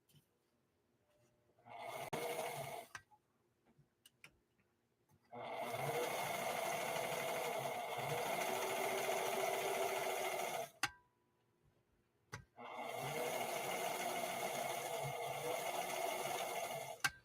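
A sewing machine set to a wide zigzag swing on its needle bar runs in three bursts, one short and two longer, with an even, rapid mechanical whir and clatter and quiet pauses between.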